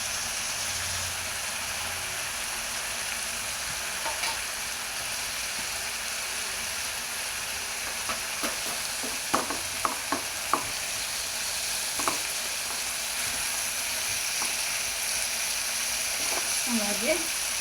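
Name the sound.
ginger frying in a pan for egg curry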